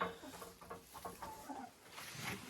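Backyard hens at a dacha, with a rooster in the enclosure, cluck softly and intermittently, close by, amid light rustling and shuffling.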